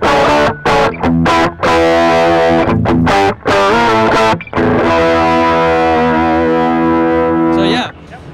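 An electric guitar plays loud, sustained chords and notes through an overdrive pedal set to its clean-boost JHS mode, with a few choppy breaks early on before the chords ring out.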